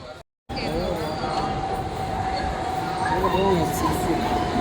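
A late train arriving at a station rumbles steadily along with a faint high squeal of wheels, after a brief silent gap at the start, with murmuring voices in the background.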